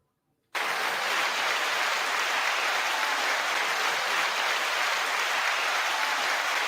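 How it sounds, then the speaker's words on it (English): A small group claps continuously and steadily at a radio studio, a dense even patter that starts abruptly and holds at a constant loud level with no talk over it. "We're going to clap for you the entire time you're typing."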